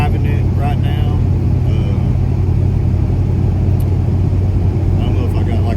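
A Pontiac GTO drives along with a steady, loud low rumble and road noise from inside the car, while a voice talks over it.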